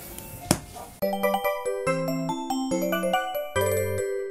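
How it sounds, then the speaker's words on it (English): Doorbell chimes ring out in a bright melodic sequence of ding-dong tones, loud and clear, after a brief noisy burst at the start. "doorbell rang and the dogs are still going crazy."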